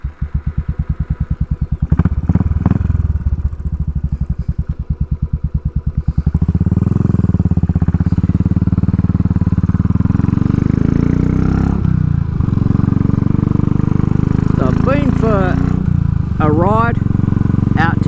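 A Royal Enfield Classic 500 single-cylinder with Race Dynamics tuning, set up to reduce deceleration popping, thumps at a steady pulsing idle up close, then pulls away into a loud sustained ride with rising revs and wind rush.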